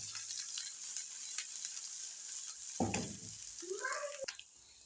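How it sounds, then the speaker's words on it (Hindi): Ginger garlic paste frying in oil in a pot, a steady sizzle throughout with a burst of scraping and stirring near the end, close and moderately loud. "और अब इसको हिलाएंगे।"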